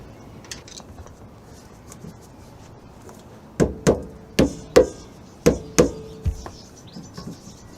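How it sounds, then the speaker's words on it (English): A handbrake adjuster tooth wheel being turned inside a Citroen Relay rear brake drum. About eight sharp, close metallic clicks arrive in a quick, uneven run after a few seconds of quiet. "And you adjust this tooth wheel until the brake drum is locked up"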